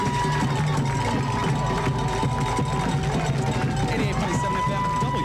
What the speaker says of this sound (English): here's to this crowd as the Chargers take the field